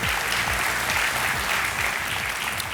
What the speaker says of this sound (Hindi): ताली बज गई है तो सही होगा